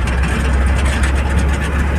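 Tractor engine running steadily at a village fair in Lalpur, Chhattisgarh, a loud low rumble heard close up and continuous with no talk.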